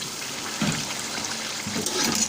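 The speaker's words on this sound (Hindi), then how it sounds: "अब इसमें हम थोड़ा सा पानी शामिल करेंगे।" A small amount of water is poured into a pan of vegetable pulao with tomatoes, making a continuous close rushing splash with a couple of louder surges and no talk.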